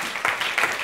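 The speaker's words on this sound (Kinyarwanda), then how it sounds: "Komera Imana amashyi." A church congregation breaks into a brief burst of applause during a worship service, the clapping rising in a couple of quick surges.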